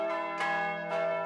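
Four of a Green Bay cathedral's five bells peal steadily and overlap, with new strikes coming about every half second over a ringing, resonant hum.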